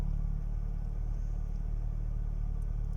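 A Tofaş Doğan 1.6ie car engine idles cold just after starting, a steady low rumble that holds evenly throughout, close and moderately loud with no voices.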